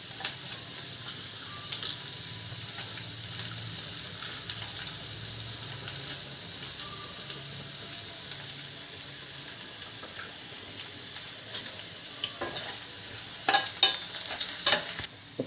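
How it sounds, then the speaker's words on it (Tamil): Dried red chilies frying in hot oil for lemon rice give a soft, steady sizzle at moderate distance, with faint stirring and a few louder clinks and crackles near the end. "இப்போ காஞ்ச மிளகாய் சேர்த்துக்கலாம்."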